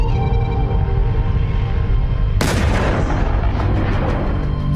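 Missile strike explosions in the Israel–Iran war: a steady low rumble, then a sudden loud blast halfway through that decays into a long roaring tail.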